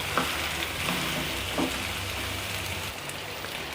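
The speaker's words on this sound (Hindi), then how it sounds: "ये आलू और चिकन को ना हमने तकरीबन 5 से 7 मिनट तक फ्राई करना है हल्की आग पे" Potatoes and chicken frying over low heat for an aloo chicken curry give a steady soft sizzle, with a few faint stirring scrapes near the start and no talking.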